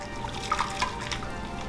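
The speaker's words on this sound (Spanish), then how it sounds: "Ya pasó un minuto, voy a colar mis papas." Blanched potatoes are drained, with water trickling and dripping in a soft, close pour that has small splashy spikes and no talking.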